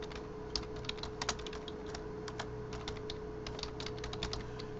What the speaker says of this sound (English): This will let me type.